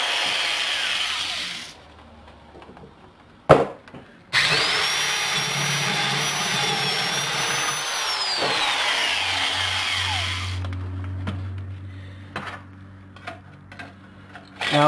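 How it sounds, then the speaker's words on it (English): A power drill bores through a thin metal injection-port lid. A loud whining burst runs for several seconds and then dies away, with brief clicks and quieter handling noise before and after. "when you're drilling through relatively thin metal, there's quite a bit of burring there"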